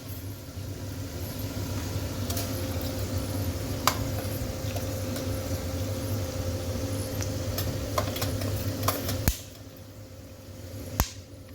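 Mustard seeds splutter in hot oil, a constant dense crackling sizzle with a few sharp pops, close and steady throughout.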